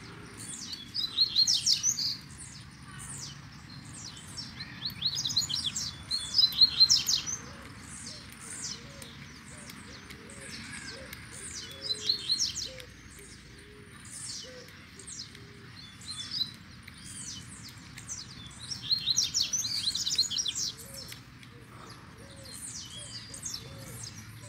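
Coleiro seedeater birds sing near a cage outdoors, bursts of high, rapid chirping and trilling phrases repeating every few seconds over faint background rustle, fairly distant and soft.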